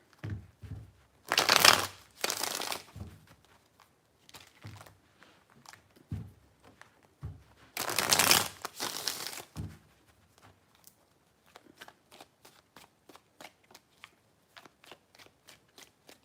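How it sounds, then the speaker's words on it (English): Tarot cards are shuffled in three quick riffling bursts, crisp and close, with softer card taps and small flicks between them and a run of light snapping clicks at the end. "Three shuffles."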